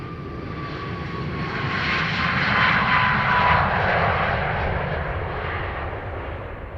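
An Embraer Praetor business jet taxiing at Dublin Airport gives a steady, broad engine roar with a faint high whine, swelling slightly mid-way, heard from a distance with no voices.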